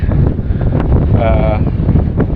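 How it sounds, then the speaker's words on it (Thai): Wind gusting up from a valley near a heart-shaped waterfall on a mountain trail, a steady loud rushing roar buffeting the microphone throughout, with faint speech underneath. "ลมที่มันมาจากหุบเขา"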